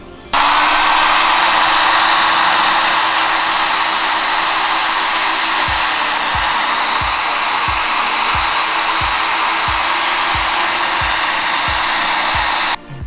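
A hair dryer blasts steadily while drying colour-changing paint on shoes, a loud continuous whooshing whine that starts abruptly and cuts off near the end, with a run of regular low thumps in the second half.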